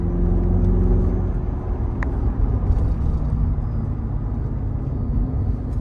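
Mercedes-Benz SL63 AMG engine pulling hard in third gear, a steady, loud, deep rumble heard from inside the car that holds strong throughout with no gaps.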